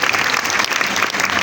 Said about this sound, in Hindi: ज़रा ज़ोरदार तालियां उनके लिए अप्रिसिएशन के तौर पर।